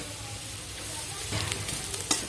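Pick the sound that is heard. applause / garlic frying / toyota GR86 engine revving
garlic frying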